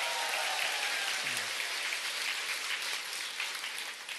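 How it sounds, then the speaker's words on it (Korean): Audience applause at an Atomy success seminar, a dense, sustained wash of clapping from a large crowd in a hall, loud and steady throughout before tapering slightly at the end. "힘찬 박수 한번 보내드립니다"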